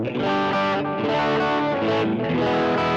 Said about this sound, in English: So what do you think of the sound of the Strat?